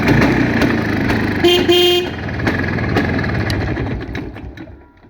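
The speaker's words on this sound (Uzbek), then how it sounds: "Mototsikl ishlashini qarang, mana o'chib qolay deb ishlab turibdi aka." An old Planeta 4 motorcycle engine, smoking slightly, runs unevenly and close up with a rough, uneven rumble, broken by a short tonal honk partway through before the sound tapers off at the end.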